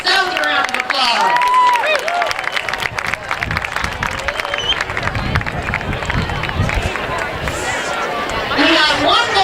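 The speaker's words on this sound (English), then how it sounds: "Give yourselves a round of applause" A crowd applauds at a high school football event, dense clapping with cheering and crowd babble throughout, strong and sustained from start to finish.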